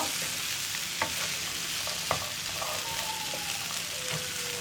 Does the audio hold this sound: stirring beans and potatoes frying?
yes